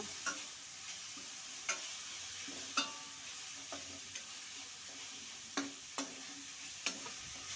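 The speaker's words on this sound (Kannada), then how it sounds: "ಈಗ ಅದೇ ತುಪ್ಪದಲ್ಲಿ ತುರಿದಿಟ್ಟಿರುವಂಥ ಕ್ಯಾರೆಟನ್ನು ಹಾಕಿ ಕಲಿಸ್ಕೊಳ್ತೀನಿ ತುಪ್ಪದಲ್ಲೇ ಫ್ರೈ ಮಾಡ್ಕೋಬೇಕು" Grated carrot fries in ghee with a steady sizzle while a spoon stirs it, giving repeated scraping clicks against the pan at irregular intervals, close and moderately quiet with no talking.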